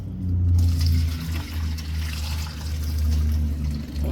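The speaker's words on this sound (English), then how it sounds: "we just strain off the water like that" Water is strained off freshly washed fish, a close, steady pouring and trickling splash running for a few seconds.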